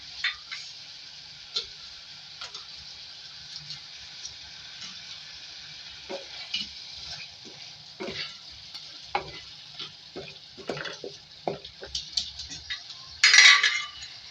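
Prawn karahi is stirred and fried with salt and green chillies, giving a steady sizzle with scattered spoon scrapes and knocks against the pan and a louder burst of clatter near the end.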